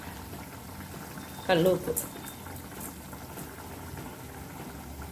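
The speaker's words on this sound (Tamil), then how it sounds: "நல்லா கொதித்து அந்த பச்சை வாடை போய் எண்ணெய் பிரியட்டும்." Tomato gravy seasoned with rock salt bubbles softly and steadily in a pan, faint and continuous, with someone briefly speaking over it.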